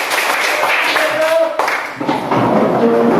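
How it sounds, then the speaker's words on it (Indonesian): A class of students claps hands during an ice-breaking game in a primary school lesson, a dense, steady patter running throughout with voices mixed in. "Tepuk tangan."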